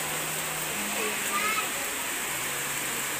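Rain falls steadily at a construction site where plywood shields an area from dripping water, an even broadband hiss of rain with faint tonal hum, constant and moderately distant, and no clear voices.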